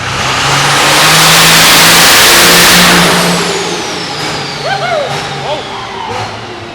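An engine revs up steadily on a dyno during a pulling-event dyno test, climbing toward about 2,000 RPM and 45 mph as a loud, sustained roar that rises and then eases off. A voice talks over the later part.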